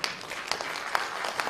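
An audience claps to welcome a band onto the stage at a live new-song launch event, a short burst of moderately loud applause with scattered individual claps.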